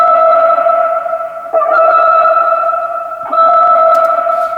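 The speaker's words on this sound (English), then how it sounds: "And now let's add our typical reverbs and delay with that," A sustained, steady vocal-like tone with typical reverb and delay effects added, holding a bright layered pitch that swells again at regular intervals, loud and alone.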